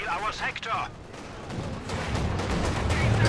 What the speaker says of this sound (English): Flak panzer getting a couple shots in there.